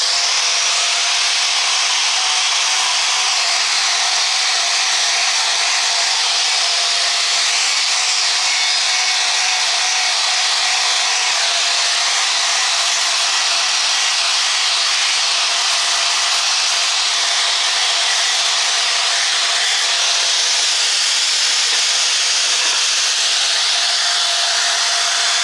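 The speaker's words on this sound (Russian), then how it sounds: "Сейчас я буду вот эти трубы, которые у меня валяются, вот эти в частности, все шлифовать" Continuous abrasive grinding hiss of sanding metal profile pipes, steady and fairly loud for the whole stretch, with no talking.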